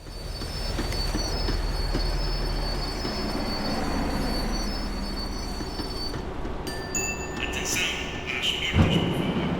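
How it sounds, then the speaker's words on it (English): A rumbling tram rolls steadily along with faint high squeals and clanks, its drone easing slightly as it slows down, in the video game Max Payne 3. "The tram was slowing down"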